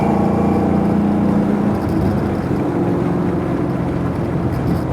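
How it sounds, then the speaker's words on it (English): A 1997 Ford Mustang with a swapped-in Coyote V8 roars loudly and steadily through its exhaust, a sustained high-revving drone that eases slightly midway without pausing. "That's that Coyote right there screaming."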